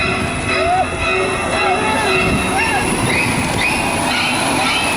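A Universal Studios Hollywood tour tram rumbles past with a steady low roar and faint metallic squeals from the wheels, with voices chattering nearby.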